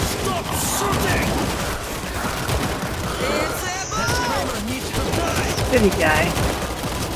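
Gunfire in the video game World War Z, rapid bursts of shots crackling loud and close, mixed with game effects and a voice speaking briefly.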